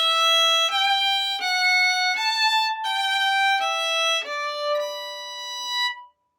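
Solo fiddle plays a bar of the Cape Breton reel "The Burning House", a quick run of clear, bowed single notes in steady succession, close and alone before the last note fades.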